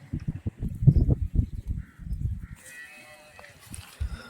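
A black-and-white patched HF cross cow, pregnant and near calving, gives low, drawn-out moos in a close series. Fainter higher farmyard sounds follow near the end before a last short low call.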